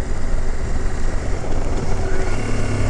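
A 2023 CFMOTO Ibex 800 adventure motorcycle revs hard above 4,000 RPM as its secondary opens, giving a loud, continuous engine roar mixed with wind rush and a pitch that climbs toward the end.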